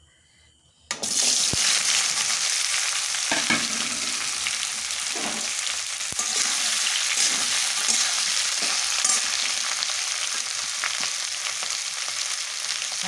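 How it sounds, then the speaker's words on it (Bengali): Chopped young jackfruit hitting hot mutton fat in a pan, with a sudden loud sizzle after a second of quiet, then a steady hiss and crackle of frying that runs unbroken to the end. "তো আগে কাঁঠালটা দিয়ে দিচ্ছি, ভেজে নেব।"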